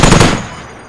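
Suppressing fire from a squad in a video game, a loud close burst of rapid automatic gunfire that cuts off after a split second and leaves a decaying echo.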